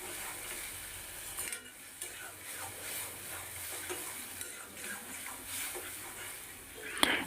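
Chicken pieces, spiced for a garlic pepper fry, sizzle quietly in a pan while being stirred, with occasional utensil clinks and a louder knock at the end, under faint speech.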